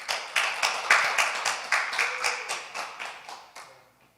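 A small congregation claps in unison in a slow, steady rhythm, about a dozen distinct beats, close and clear, fading slightly toward the end.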